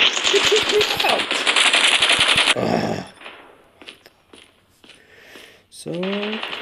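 Rapid automatic gunfire in Call of Duty Mobile rattles loud and close for a couple of seconds, then gives way to sparse single shots and game effects, with someone talking over it.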